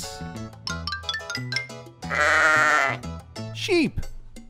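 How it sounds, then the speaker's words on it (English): A sheep bleats loudly once, a wavering cry that stands alone after a stretch of upbeat music, then the music resumes with a falling sweep. "Sheep."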